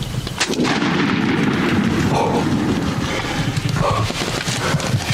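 A single loud gunshot fired at a turkey during spring turkey season rings out early, followed by a rumbling echo and outdoor ambience.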